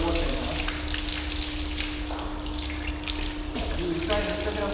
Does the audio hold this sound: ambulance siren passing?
no